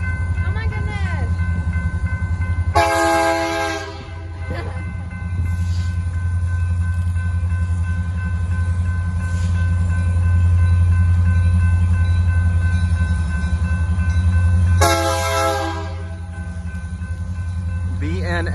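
A BNSF freight train rumbles steadily past at close range, and its horn blasts twice, once early and once near the end, loud and harmonic over the continuous rolling noise, with a voice speaking briefly.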